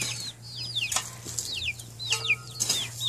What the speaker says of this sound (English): I made all the chickens run to me.